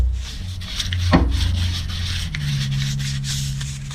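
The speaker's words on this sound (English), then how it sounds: "take some sandpaper, clean the rest of this up a little bit." Sandpaper rubs back and forth across a homemade GoPro dive rig in short, scratchy strokes, close and fairly quiet, with a faint tonal hum beneath.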